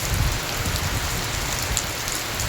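Heavy rain falls in Malaysia after a spell of intense heat, a dense, even hiss of drops hitting surfaces close by, steady and unbroken.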